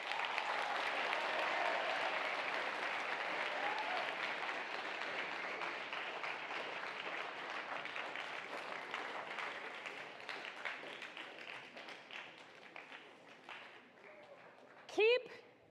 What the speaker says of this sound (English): How about an applause for that?